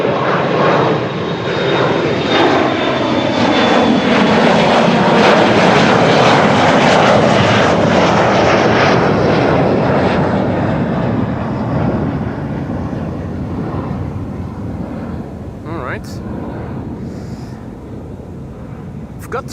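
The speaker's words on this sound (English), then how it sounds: "Embraer 175. First departure from the Kaagbaan over here." An Embraer 175 jet departs the Kaagbaan runway at Amsterdam Schiphol, its engine roar loud and steady for most of the span, then slowly fading as it climbs away amid light wind noise.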